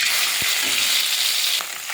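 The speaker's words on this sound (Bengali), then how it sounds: "কড়াইটা গরম হয়ে গেছে, এবারে মাছগুলো দিয়ে ভেজে নেব" Fish hits a hot wok and sizzles loudly and continuously up close, with a couple of soft knocks, easing slightly near the end.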